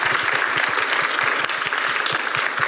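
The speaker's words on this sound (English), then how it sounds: "And please applaud." Audience applause at a library-hosted podcast event, a steady dense burst of clapping from a crowd that carries evenly through the whole moment.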